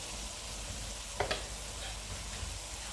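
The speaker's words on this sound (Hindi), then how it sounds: "और अब इन तमाम मसालों को मैं 1 से 2 मिनट तक अच्छी तरह से इनमें भून लूँगी।" Garam masala, salt and ground coriander fry in a pan under a steady low sizzle, with a brief scrape or stir partway through, no voices.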